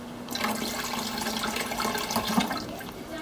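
Water runs steadily from a tap into a house sink on a small island cay, a continuous close splashing rush with slight fluctuations and no talking.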